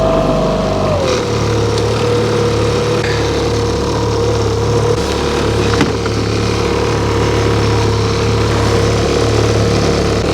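Loud, steady drone of an outboard motor on a fishing boat running close by in shallow river water, its pitch dropping early on and then holding constant as it putts along.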